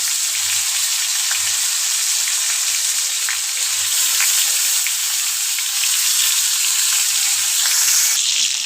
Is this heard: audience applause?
no